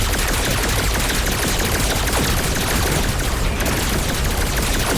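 Continuous pistol gunfire in a video game, a dense, loud stream of rapid shots with no pauses, packed together like a fusillade.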